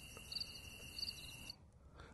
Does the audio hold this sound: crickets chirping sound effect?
yes